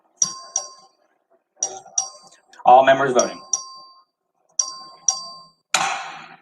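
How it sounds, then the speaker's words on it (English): Voting bells ring in the Texas House chamber during a record vote, sharp metallic dings in pairs and groups with quick decays and silent gaps between them. A voice speaks briefly among the chimes. "The clerk will ring the bell."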